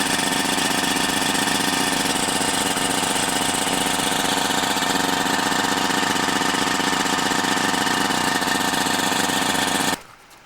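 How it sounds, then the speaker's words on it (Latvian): A small motor runs continuously at a steady loud drone with a rough mechanical buzz, then cuts off abruptly near the end. "šis mazais motoriņš var dot pat līdz 10 atmosfērām"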